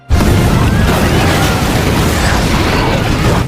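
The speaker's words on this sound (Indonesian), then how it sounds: "Suara gemuruh, ledakan," An explosion in the town of Augsburg opens abruptly into a loud, dense, continuous rumbling roar that holds steady for a few seconds without letting up.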